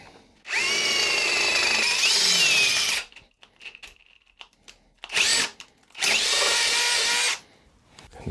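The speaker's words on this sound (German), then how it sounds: "Deshalb werde ich etwas schräg bohren müssen." A power drill whines in two long bursts of about three seconds each, drilling at an angle into a Ruff Cycles Lil Buddy bicycle's fork bridge, with a short spurt between and quiet handling noises in the gaps.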